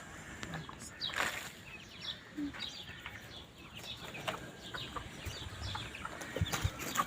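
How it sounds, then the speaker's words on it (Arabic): Young ducklings and chicks being readied for brooding peep and cheep in a steady, scattered chatter at moderate distance, with soft rustling underneath and no talking. "هجيب البط وين زي ما انتوا شايفين معايا دي الطيور اللي احنا هنحضنها اهي، لسه نونو صغيرين خالص"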